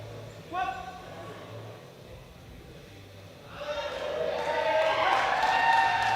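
Crowd at the 2024 World Classic Powerlifting Championships cheering and applauding a men's 105 kg bench press, the clapping and shouts swelling from a murmur into a sustained roar over the second half, with a commentator talking above it.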